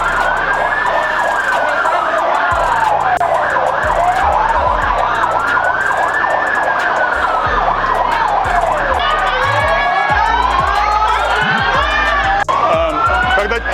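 A police car siren wails loudly and close during street protests in Hong Kong, rising and falling in long sweeping cycles over a noisy crowd and traffic rumble.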